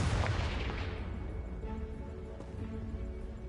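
A Confringo blast spell cast in the Hogwarts Legacy video game: a loud explosive boom that fades into a rumbling, crackling tail over a few seconds.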